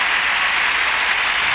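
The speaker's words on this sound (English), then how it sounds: "And there are her parents cheering her on." Applause and cheering fill the arena at the 1994 Skate America women's free skate as parents cheer on a figure skater. A dense, steady roar of clapping continues throughout.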